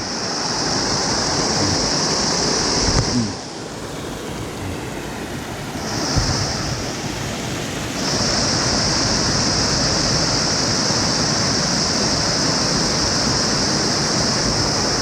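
An artificial waterfall at a botanical garden roars in a steady, loud, unbroken rush of falling water, with a constant high hiss above it.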